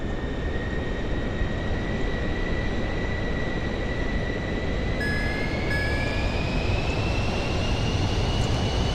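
Airliner engines spooling to takeoff thrust in a flight simulator, a steady loud roar with rising whining tones that climb in pitch as power builds, continuous throughout.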